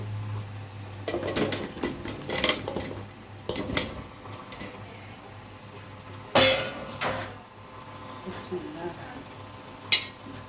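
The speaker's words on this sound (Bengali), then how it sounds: "এখন আমি লাউটা দেবো আস্তে আস্তে" Pieces of bottle gourd go into a cooking pan and get stirred, giving scattered clinks and scrapes of utensil on metal with irregular bumps and knocks, some louder, against a quiet kitchen background with faint voice.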